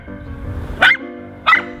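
Two loud, sharp dog barks about two-thirds of a second apart ring out close by in a quiet outdoor dog park, over a low background rumble.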